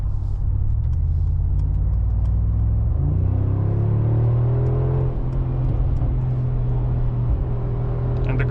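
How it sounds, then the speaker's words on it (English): A 2025 Mercedes-AMG G63 SUV drives off-road, its engine a steady low rumble with a rising whir as it pulls away, continuous and close without talk. "And the car just went off-road."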